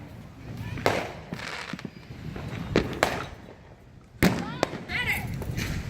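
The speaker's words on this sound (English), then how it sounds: "That looks like a triple shooter." A triple shooter firework going off outdoors at a Fourth of July gathering, several sharp cracking bursts spread across a few seconds with faint crackle and rustle between, moderately distant, with voices of people nearby.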